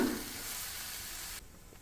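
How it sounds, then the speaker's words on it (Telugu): Vegan keema curry sizzles loudly in a frying pan as it is stirred, a continuous close hiss that cuts off abruptly near the end. "ఇప్పుడు బాగా కలబెట్టేయండి. కిందకి పైకి కిందకి వచ్చేలాగా బాగా కలిపేసుకోవాలి"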